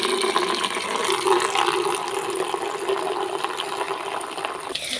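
Water pours continuously and steadily during a dog bath with shampoo lather, a close, moderately loud splashing flow that holds for several seconds and stops abruptly at the end.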